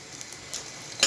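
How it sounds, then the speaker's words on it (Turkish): Soft, continuous sizzling of çiğ börek pastries frying in hot oil, with a few small crackles and a louder hiss near the end; close and steady. "hepsini güzelce her iki tarafını çevire çevire kızartacağım"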